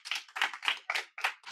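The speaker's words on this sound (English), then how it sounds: "I didn't have to tell you to applaud that time" A small group claps in about six quick, evenly spaced bursts, close and clear with no talking over it, on a competition show episode.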